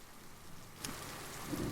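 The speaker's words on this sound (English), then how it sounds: "it's still raining, and pretty heavily at that." Heavy rain pours steadily during a tabletop fantasy role-play session, a dense, even hiss with a brief louder swell that could be distant thunder, and no voices.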